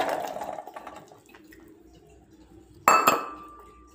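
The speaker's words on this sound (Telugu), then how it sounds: "పల్లీలు ఉడికినాయి, వీటిని స్ట్రెయిన్ చేసుకుంటున్నా." Boiled peanuts are drained through a strainer: a short rush of pouring water fades into quiet dripping, then a sharp metallic clink rings out near the end.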